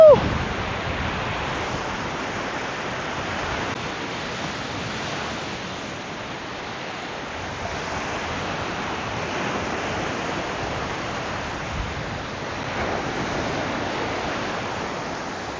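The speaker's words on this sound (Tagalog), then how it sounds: "Malakas kasi yung alon." Strong, heavy ocean surf rolling continuously on a shore, a broad steady roar with gentle swells in loudness and no talking.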